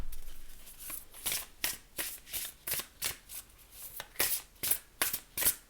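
Oracle cards being shuffled close up, a series of crisp riffling bursts in an uneven rhythm, about a dozen quick flurries separated by short pauses, with no voices.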